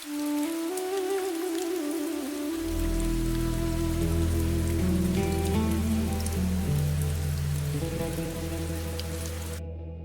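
Rain patters steadily in an animated village story, a dense continuous shower laid under a tonal musical score, with no voices.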